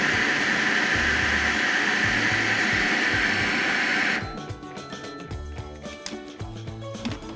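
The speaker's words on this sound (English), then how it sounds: "You just pour it in slowly through the top of the food processor" A food processor whirs with a loud, steady motorized roar for about four seconds, then stops, leaving quieter background music.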